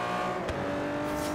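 Aston Martin Vantage GT12 road racer in Forza Horizon 3, a steady engine drone holding a constant pitch, with a brief whoosh partway through.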